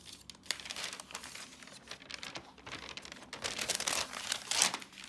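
A sheet of paper bearing a drawn illumination (tezhip) pattern being folded, giving close crinkling and rustling with a few sharper crisp swishes near the end.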